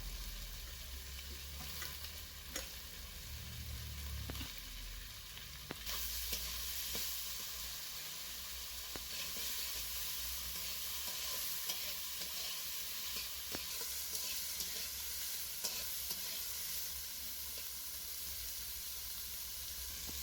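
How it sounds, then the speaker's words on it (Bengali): Sliced carrots and capsicum frying in a little white oil with salt in a pan, a steady close sizzle broken by repeated scraping stirs of the spatula, with no talking. "গাজর আর ক্যাপসিকামটা হালকা ভাজা হয়ে গিয়েছে"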